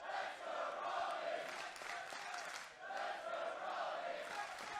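A live crowd at a PWA pro wrestling match between Travis Banks and Robbie Eagles chants in rising and falling waves, distant and echoing through the venue, with no talk over it.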